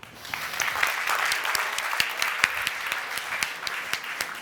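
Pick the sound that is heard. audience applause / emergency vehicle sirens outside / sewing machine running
audience applause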